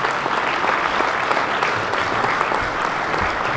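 Steady, full applause from an audience at a speaking event in Nuevo León, honoring three generations of a family, continuous and even throughout without a clear voice over it.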